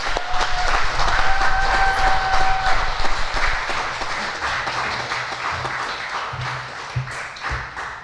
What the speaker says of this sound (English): I think you're cheering too much, Mr. Ahn.